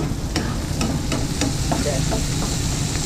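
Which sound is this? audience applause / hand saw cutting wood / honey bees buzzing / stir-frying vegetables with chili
stir-frying vegetables with chili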